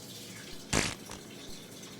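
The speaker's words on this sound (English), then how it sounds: "make sure to wash your hands right after." Tap water runs briefly into a kitchen sink for hand washing after cracking eggs while making chocolate brownies, a short splashing burst with faint background noise.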